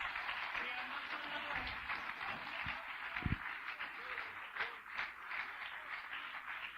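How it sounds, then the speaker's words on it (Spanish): Church congregation clapping together at a Spanish-language sermon, a sustained fairly faint wash of hand claps heard from across the room, with a few low thumps in the middle. "Denle un aplauso a Cristo"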